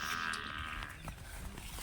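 A buffalo lets out a low, drawn-out moo, close and fairly clear, filling the short moment alone.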